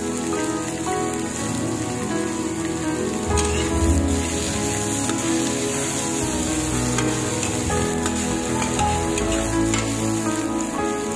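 Chopped string beans sizzle and fry in a hot pan for adobong sitaw, a steady loud crackling hiss throughout with occasional stirring clatter, no voices.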